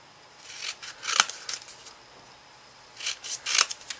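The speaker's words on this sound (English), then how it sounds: "Now the neck, I just want to cut it from this corner up to that corner." Scissors snip through card to cut a neck shape for a Christmas tent card, with two bursts of crisp close cuts separated by a quiet pause.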